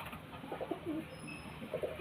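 A male domestic pigeon, the father of a young squab, coos softly in short low repeated phrases, fairly close but not loud, over a steady background hiss.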